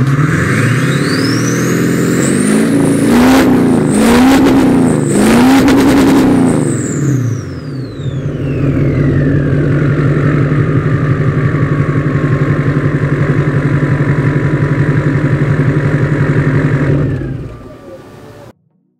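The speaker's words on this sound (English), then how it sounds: "It's a horn that makes a deep noise." Diesel Duramax pickup truck with an aircraft carrier horn fitted to the exhaust, revving up and down in loud, deep, droning blasts, then settling into a steady heavy rumble that cuts off abruptly at the end.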